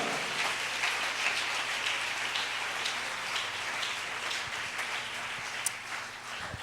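Church congregation applauds during a Spanish-language sermon, a soft, diffuse wash of clapping at a distance that sounds almost like steady rain, continuous and fairly quiet.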